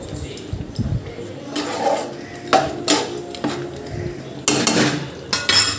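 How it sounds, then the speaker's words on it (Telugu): Utensil scraping and clinking in a pot while chicken gongura curry is stirred, with a few louder scrapes in bursts and someone talking over the stirring. "బాగా కలుపుకోవాలి ఫ్రెండ్స్"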